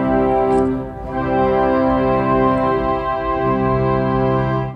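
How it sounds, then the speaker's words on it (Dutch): Sustained pipe organ chord on gamba and voix celeste string stops drawn together, the slightly sharper celeste rank beating against the gamba for a gentle shimmering waver, held steadily, close and fairly loud with no talk. "Dus als je die wat samen doet, krijg je een mooie zweving."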